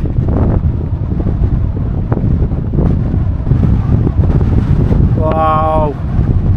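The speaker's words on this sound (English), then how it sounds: "And then the wind just blew" Strong wind gusts across an exposed wild camp by Grisedale Tarn, a continuous loud buffeting roar hitting the microphone, with a brief rising whistle-like tone near the end.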